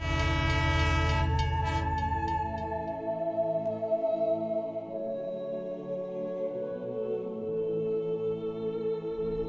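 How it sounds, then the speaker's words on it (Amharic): A passing train sounds a long, sustained horn over a heavy low rumble that fades after a few seconds, leaving the tonal blast ringing on its own, with no voices. "ባቡር ውስጥ ገብታ ትሄዳለች።"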